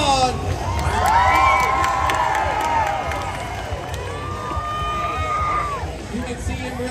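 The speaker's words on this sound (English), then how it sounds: "Make some noise, cheer him on." Crowd at a monster truck show in Dunkirk cheering and shouting in a loud, sustained roar with children's shrieks and whoops, while a truck's engine rises and falls underneath.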